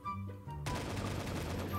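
Gunfire from a weapon in a Minecraft zombie apocalypse mod, a sudden, loud burst of rapid shots that starts partway through and runs on as a dense, continuous rattle over a low game hum.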